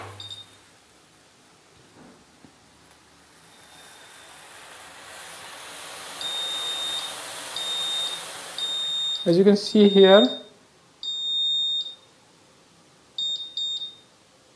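An Arduino milk boiling detector sounds a series of sharp electronic beeps in short bursts, growing more frequent as milk nears the boil, after a quiet stretch with a person speaking briefly at the start.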